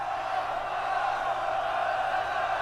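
Deafening applause from the Lyrian crowd at a beheading in Thronebreaker: The Witcher Tales, heard as a steady, dense roar of clapping and cheering that holds unbroken throughout.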